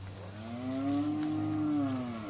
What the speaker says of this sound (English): Two steer calves there.